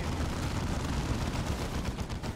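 Turrets firing in Warhammer 40,000: Dawn of War II make a dense, continuous rattle of rapid game gunfire with a rumbling low end, steady and loud, with no talk.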